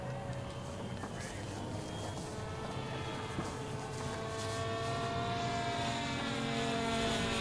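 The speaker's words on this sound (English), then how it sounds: "Once again, those contra-rotating propellers making some very interesting noises." Contra-rotating propellers on a competition model aircraft flying at a design-build-fly contest, heard as a steady buzzing drone with shifting tonal whines, continuous and moderately distant, with crowd speech faint underneath.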